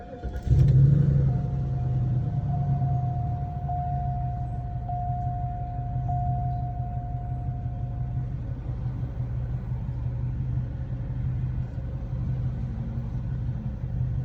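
A Cadillac DeVille engine cranks and catches with a brief loud burst, then settles into a steady, close low idle rumble with a faint whine, no voices.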